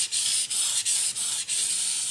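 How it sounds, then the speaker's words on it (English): A kitchen knife drawn over a 1200 grit whetstone to polish the bevel and refine the edge: about five close, quick gritty rasping strokes, each separated by a brief pause, with no talking. "So I'll go now up to the 1200 grit stone. The same process again."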